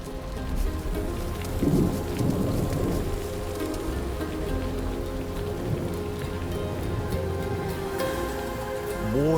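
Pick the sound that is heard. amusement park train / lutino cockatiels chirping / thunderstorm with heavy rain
thunderstorm with heavy rain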